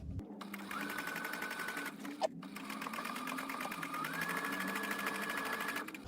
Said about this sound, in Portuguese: Então, eu entro ali na costura, dou um retrocesso, e vou costurar